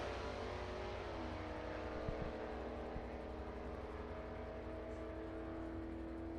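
Distant engine drone from a drag race between a late model Mustang GT and a 1978 Mustang, a faint steady rising whine with low rumble and no clear launch.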